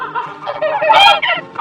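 A goose honking up close, a quick burst of harsh, nasal calls running together, loud and alone.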